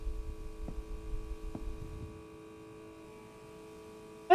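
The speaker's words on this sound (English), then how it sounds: "the sort of incessant buzzing of the incandescents above" Incandescent lights overhead give off a steady, quiet electrical buzzing hum with a constant tone, low-level and unchanging, and a few soft thumps appear early on.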